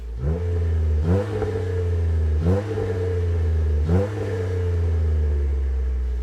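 A deep, throaty Jeep Wrangler axle-back exhaust idles loudly, then revs sharply three times at steady intervals, each rise dropping quickly back to a rumbling idle.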